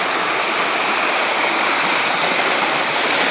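Water rushing steadily at a hydraulic ram pump, a loud, continuous close-up flow without pauses or talk.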